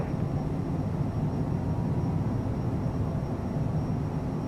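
A CJ4 business jet takes off in a flight simulator, its engines giving a steady, broad roar with a faint thin whine above it, even and unbroken throughout.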